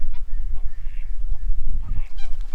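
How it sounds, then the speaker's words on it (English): Several swans honk in short, nasal bursts near a waterside spot in Copenhagen, Denmark, fairly close and loud, with some rustling and low background noise between calls. "Just a bunch of swans."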